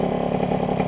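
A small scooter engine with a Pinasco 65 kit runs steadily at close range, a loud, buzzing, rapid putter with no pauses.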